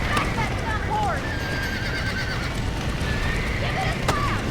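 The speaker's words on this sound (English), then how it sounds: "Back that dumb horse." Horse whinnying in the Red Dead Redemption video game, with short rising and falling neighs over a dense bed of hoofbeats and outdoor noise throughout.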